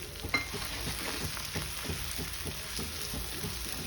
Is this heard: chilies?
yes